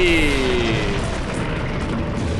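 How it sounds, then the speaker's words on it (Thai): In the video game Brothers in Arms: Earned in Blood, a bomber plane drops bombs: a descending whistle gives way to a loud, continuous rumbling roar of explosions and heavy engine noise. "เสียงเสียงเครื่องบินทิ้งระเบิด"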